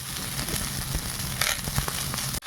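Panch phoron spices and onion sizzle in hot oil in a village kitchen, a steady crackling fry with scattered pops and clicks close by, ending in a sudden brief cutoff.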